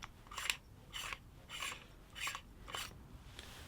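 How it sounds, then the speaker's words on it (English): Unscrewing the upper emitter section of a Maul lightsaber hilt gives a series of short, dry scraping twists of metal threads, about six evenly spaced turns, close and fairly quiet with no talking. "First, you need to unscrew this upper emitter."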